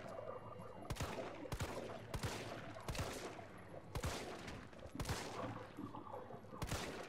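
Gunfire in the video game Resident Evil 3, shooting at enemies in a virus-infected city: sharp, loud shots fired in an irregular rhythm, about nine across the stretch, over low background game ambience.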